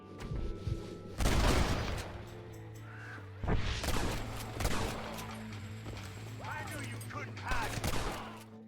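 A gunfight in the Red Dead Redemption video game, several sharp gunshot bursts and volleys at intervals, with horse hooves and a narrating voice between shots.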